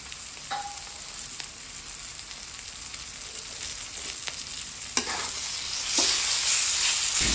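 Minced chicken with spices is stirred in a frying pan, a continuous close sizzle overlaid with scraping and turning sounds from the spoon, growing slightly louder toward the end.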